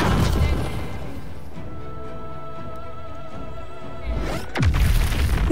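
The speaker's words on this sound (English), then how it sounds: "beautiful smoke powder bomb" A smoke powder bomb explosion in Baldur's Gate 3: a booming crash erupts with a burst of noise, fades into a lingering ringing tail, then another heavy blast hits near the end.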